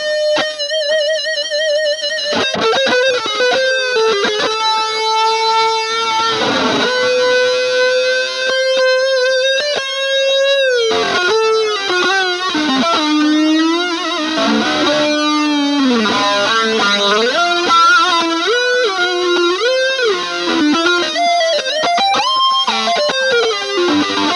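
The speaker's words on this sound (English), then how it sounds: "when you add in your reverb and delay and all that good stuff" Electric guitar notes and chords ring out with a shimmering chorus effect from a Walrus Audio Julia pedal, washed in reverb and trailing delay echoes, played alone.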